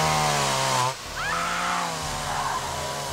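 A chainsaw engine drones loudly and continuously, dipping briefly before revving back up, with a steady throaty buzz throughout.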